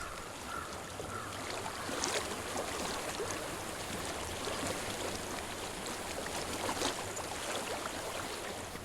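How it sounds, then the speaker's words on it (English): Steady flowing water in the video game Hellblade: Senua's Sacrifice, a constant broadband rush that stays even and moderately close throughout, with no voices over it. "I hear water."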